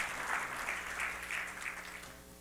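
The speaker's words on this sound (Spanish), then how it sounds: "dele fuerte el aplauso al Dios de Pablo, al Dios de Bernabé, al Dios de Saulo de Tarso" A church congregation claps together in a steady, sustained round of applause that fills the room at moderate volume and fades slightly toward the end.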